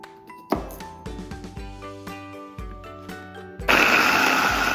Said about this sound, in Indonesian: Masukkan bawang putih, bawang bombay, dan buah pir ke dalam blender.